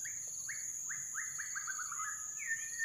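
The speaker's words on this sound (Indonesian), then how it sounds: "Ini kayaknya ada nih, tapi nggak pernah ketemu nih burung murai. Suaranya aja sih ada." An oriental magpie-robin sings in a wild rubber plantation, a run of clear rising whistled notes repeated in quick succession, moderately near, over a steady high insect drone.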